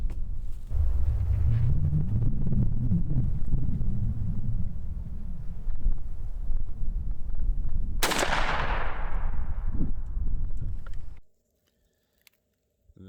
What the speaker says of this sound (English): So we're going to go for the first shot.